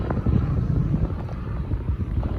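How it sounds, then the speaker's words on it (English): Strong wind blows past outdoors near a railway line, buffeting the microphone with low, uneven rumbling gusts that stay moderately loud throughout. "It is really windy too"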